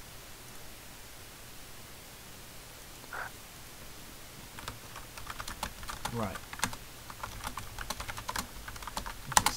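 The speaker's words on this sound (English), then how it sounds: "Just typing on Skype," Someone types on a computer keyboard, chatting on Skype while playing Runescape. Quiet hiss comes first, then a run of close, crisp key clicks, and a single brief spoken word can be heard.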